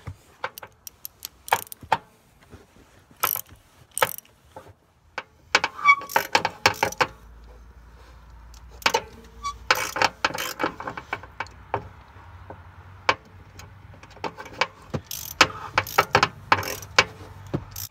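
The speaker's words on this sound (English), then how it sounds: "You can feel it cutting the threads." A thread tap cutting new threads into a stripped spark plug hole in an aluminum cylinder head, heard as irregular close metallic clicks and ratcheting ticks in short bursts with quiet gaps, over a faint low hum.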